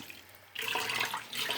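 Water poured into instant potato mix, a brief hiss of flowing liquid that starts abruptly after a quiet moment and runs steadily to the end.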